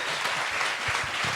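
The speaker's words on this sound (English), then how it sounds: "You guys give them a huge round of applause." An audience at a mortgage bankers' live event gives a round of applause, a short, steady wash of many hands clapping together.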